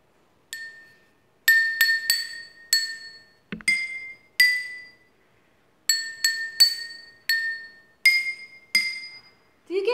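Glasses struck to tap out a tune, close and clear, with bright ringing clinks in short runs and pauses between phrases. The pitches vary from strike to strike, and a brief low knock is heard once.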